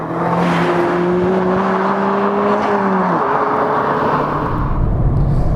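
A Mazda MX-5 RF with a 6-speed manual gearbox driving, a steady engine drone with a held tone that drops in pitch around the middle as the car shifts gear, with road noise continuous throughout.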